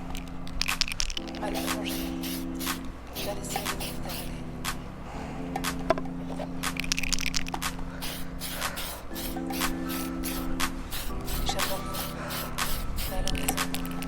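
An aerosol can sprays a light white coat onto an RC car body, short hissing bursts repeating in a steady rhythm, close and fairly loud with a background tone.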